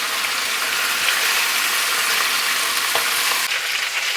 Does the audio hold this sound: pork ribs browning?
yes